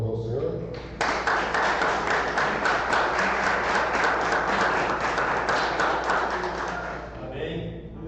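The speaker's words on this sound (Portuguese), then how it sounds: "Uma salva de palmas ao Senhor." A church congregation claps for the Lord in a steady, dense burst that starts abruptly after a short lead-in, holds loud for several seconds, then thins out near the end.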